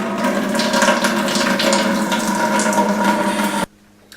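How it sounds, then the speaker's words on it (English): Motorised ball valve opened to send water flowing through a tube, a steady broadband rush of water with a tonal hum, loud and continuous for several seconds before cutting off abruptly near the end. "I will activate the ball valve now."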